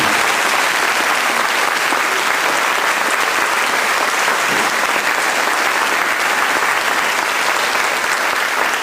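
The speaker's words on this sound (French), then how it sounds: "Vous pouvez les applaudir parce que c'était vraiment" A large audience at a Sainte-Cécile celebration breaks into sustained applause, a loud, even roar of many hands clapping without pause, with faint crowd murmur beneath.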